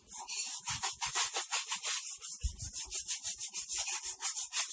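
Rhythmic back-and-forth scrubbing on a stove top, a steady run of close, even rasping strokes of moderate loudness with no other sounds.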